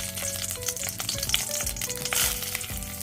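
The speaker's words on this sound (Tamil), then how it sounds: "நல்லெண்ணெய் சூடானோன்னே நம்ம வறுக்க வச்சுருக்க பொருளெல்லாம் போட்டு வறுத்துக்கலாம்." Spices crackling and sizzling as they fry in hot sesame oil, a dense continuous spatter heard close up, with faint stirring scrapes and no talk.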